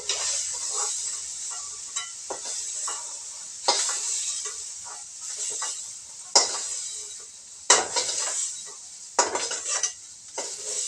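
Soybean chunks fry lightly in a pan, a soft hiss under repeated scraping and clinking of a spatula against metal, with sharper strokes every second or two.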